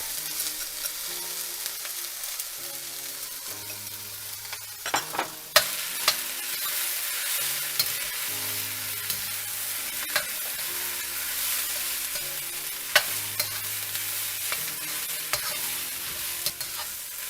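Rice stir-frying in a hot pan, a bright constant sizzle broken by scraping stirs and occasional metallic knocks of the utensil, close and unbroken by speech.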